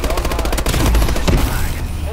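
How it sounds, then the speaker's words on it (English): Dense automatic gunfire in Call of Duty: Advanced Warfare, loud rapid bursts and fusillades filling the clip with a continuous rattling barrage. "I'm just shooting for the life of me."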